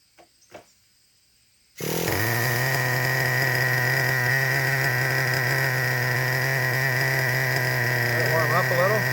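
A Traxxas Revo 3.3 nitro RC truck engine fires up after a brief quiet start and settles into a loud, steady, buzzing high-pitched idle that runs to the end.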